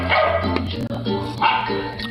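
A very large dog barks several times at close range over steady background noise, its deep woofs coming in an uneven series.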